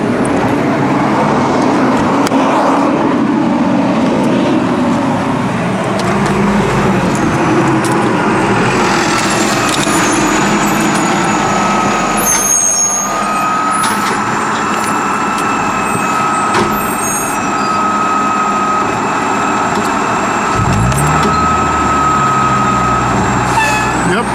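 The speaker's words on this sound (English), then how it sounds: "Now it's time to turn on the car and see if it starts." A Toyota Corolla XRS engine starts and runs close by, a loud, steady heavy rumble that holds for the whole stretch with small shifts in pitch.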